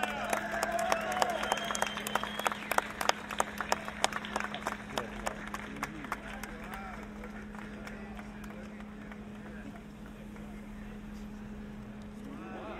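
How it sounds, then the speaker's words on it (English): Audience applause at a Hollywood Walk of Fame ceremony, a spread of scattered claps that thins out and fades over several seconds beneath a steady outdoor hum. "Let's give a big round of applause for David Arquette."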